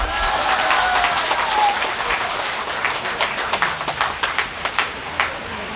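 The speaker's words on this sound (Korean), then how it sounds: "교포 여러분들에게 박수 부탁드립니다" Audience at a political rally applauding, a dense burst of clapping that thins into scattered individual claps toward the end, with a brief whistle or cheer early on.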